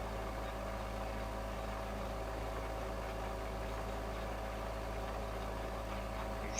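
A tractor in a farming video game backs up under Courseplay control, its engine droning at a steady, even idle-like rumble throughout with no other sounds.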